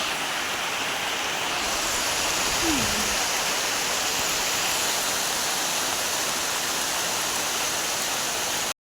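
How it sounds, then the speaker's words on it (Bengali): Heavy rain pours down steadily outside an open window, a dense, loud, unbroken hiss of falling water that fills the whole stretch. "দেখো জোরে হচ্ছে বৃষ্টি দেখো"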